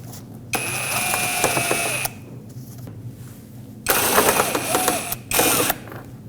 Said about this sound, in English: It has 2 Phillips head screws. Remove them both.